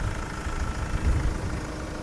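A 2.5-litre diesel engine in a 2009 Hyundai Grand Starex idles steadily with a low, rough rumble and a faint knocking texture, continuous and fairly close.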